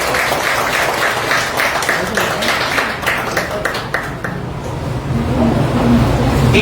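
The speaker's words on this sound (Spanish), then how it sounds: "Un aplauso para él." Audience applause for a professor and writer at a literary talk, a dense crowd clapping loudly and close for several seconds before fading into room murmur and noise.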